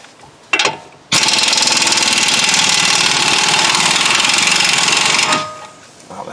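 A small impact gun hammers rapidly and continuously for about four seconds loosening wheel hub bolts on a 2010 Nissan Altima, loud and close, preceded by a short trigger burst.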